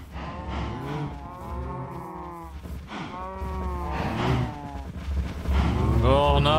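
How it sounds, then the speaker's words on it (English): Cows mooing in Minecraft, with overlapping low, drawn-out moos that repeat steadily and grow louder toward the end over a constant low rumble. "Why are these cows making so much noise?"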